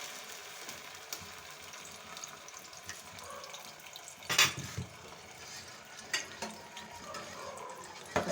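Ground onion added to half a cup of hot ghee for chicken achar gosht, giving a soft, steady sizzle with a few louder crackling bursts, quiet and close.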